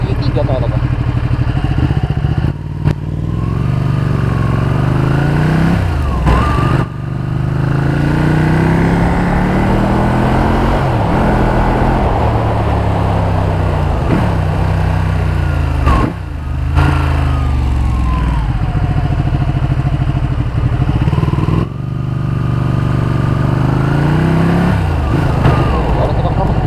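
Ducati Panigale 1199S motorcycle engine under way, a loud, close, continuous roar rising and falling through repeated gear changes with brief dips between shifts, while a rider talks over it.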